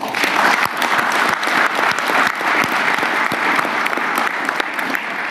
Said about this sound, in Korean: 우리 격려의 박수 한번 부탁드릴까요?